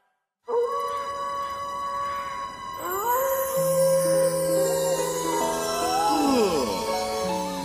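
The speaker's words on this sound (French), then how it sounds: "Quoi de plus romantique que les hurlements des loups-garous?" Cartoon werewolves howl in a long chorus in a children's animated show, with several sustained, rising and falling voices overlapping loudly, layered under music-like tones.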